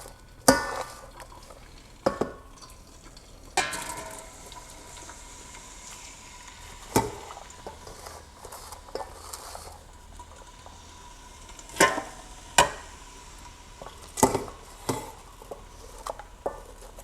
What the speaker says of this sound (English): Just going to stir this all around to coat everything in the oil.